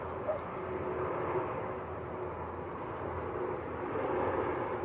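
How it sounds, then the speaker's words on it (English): A two-year-old KLM Embraer E2 jet arriving from Amsterdam at Manchester Airport gives a steady, moderately distant engine roar and rumble that holds evenly for several seconds. "a KLM Embraer E2 in from Amsterdam"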